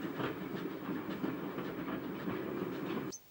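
A train runs on the Somerset and Dorset Joint Railway past a small station, giving a steady rumbling roll with faint rhythmic wheel clatter, cut off abruptly near the end.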